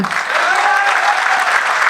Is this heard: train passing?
no